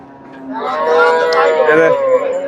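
A Friesian cow at the Chandaikona cattle market in Bangladesh lets out one long, loud moo close by, rising and holding for about two seconds.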